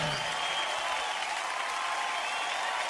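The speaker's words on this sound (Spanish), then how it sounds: "Aplaude fuerte al Señor" Loud, steady applause from a worship audience at a live Christian concert in Guatemala, a dense wash of clapping that holds evenly for about three seconds, with crowd noise blending in.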